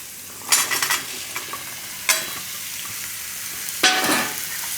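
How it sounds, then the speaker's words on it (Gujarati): Pumpkin and onion roasting in ghee in a pot for pumpkin soup, three bursts of stirring and scraping over a steady low sizzle, close and without talk. "તો આ બધું આપણે થોડીક વાર ઘીમાં શેકી લેવું."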